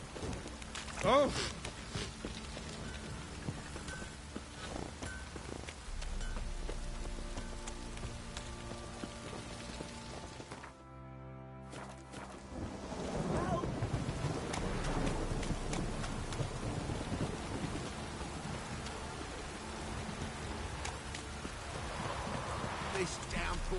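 A heavy rain downpour in the video game Witcher 3 hisses steadily throughout, with a soft rumble and occasional louder swells, while voices talk over it.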